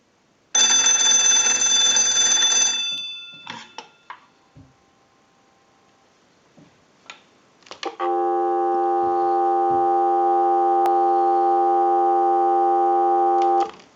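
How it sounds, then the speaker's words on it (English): Repaired Cracraft Leich wooden wall telephone: a loud bell ring fades, some handling clicks and knocks follow, then a steady humming dial tone holds for about six seconds. "we'll give you some dial tone"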